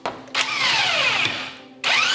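Pneumatic impact gun on a car strut, two loud close bursts of rattling, whirring hammering, the first held for over a second and winding down, the second starting just before the end.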